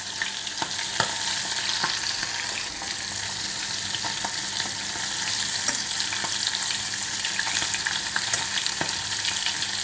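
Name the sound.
halloumi cheese frying in a pan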